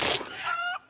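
A chicken in the animated film Moana lets out one loud, close squawking cluck that rises and breaks off, followed by a short final peep.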